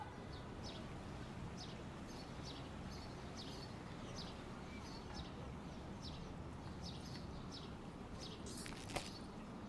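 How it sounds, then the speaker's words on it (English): Quiet morning city ambience from the video game Golf Club Wasteland, with a steady low hum of distant traffic and repeated short bird chirps spaced through it, plus a faint sharp click near the end. "Sound of the bustling city in the morning, a call and response of cars and birds."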